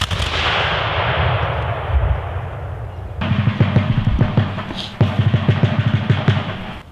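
A musket volley rings out at a Patriots' Day reenactment in Concord, Massachusetts, with a loud sustained roar of gunfire followed by bursts of sharp rolling reports echoing outdoors.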